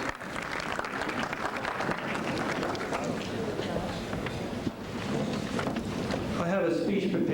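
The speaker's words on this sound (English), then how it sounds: "They deserve a round of applause." Banquet guests in a hall applaud in a dense, continuous round of clapping that lasts the whole stretch. Some crowd murmur sits under it.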